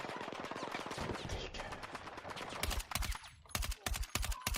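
Rapid gunfire in Battlefield 6 rattles in quick bursts, first dense and fast, then sharper spaced shots near the end, fairly close and loud against the game's background.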